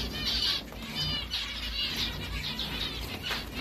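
A zebra finch with a broken wing flutters and flaps in repeated quick bursts, close and fairly soft, with occasional faint chirps and no voices.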